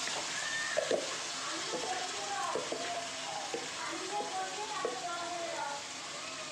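Chicken pieces coated in mustard oil fry and sizzle in a pan, a constant soft crackle with occasional stirring scrapes, under someone talking.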